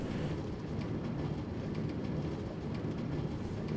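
A Steve's Carts train in a Minecraft modpack rolls along with a steady low rumble and faint rhythmic clacking, continuous and fairly quiet with no talking.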